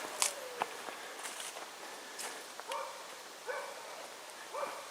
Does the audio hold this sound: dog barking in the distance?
yes